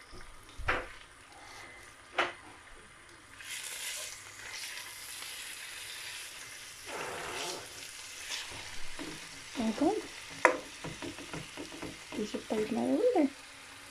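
Frozen minced-meat kofta and garlic frying in oil for tacos give a soft, low sizzle with occasional utensil knocks and scrapes, while a person talks briefly.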